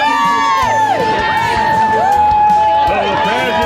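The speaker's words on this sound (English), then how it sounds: "Here's the crowd." Roadside spectators at the London Marathon cheer and shout for passing runners, a dense, loud, continuous wall of crowd noise with overlapping voices, whistles and sustained tonal shouts throughout.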